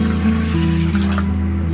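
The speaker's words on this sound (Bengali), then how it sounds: "আর এই কাপেরই দিয়ে দেবো 1 কাপ পরিমাণে জল" A cup of water pouring steadily onto sugar in a pan as the base for jalebi syrup, a continuous close splashing fill with no talking.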